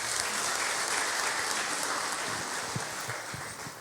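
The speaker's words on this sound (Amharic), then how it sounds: "ፕሊዝ ካም አጨብጭቡለት" A congregation at a healing service bursts into sustained, even applause, a steady wash of claps that continues at moderate loudness and eases slightly toward the end.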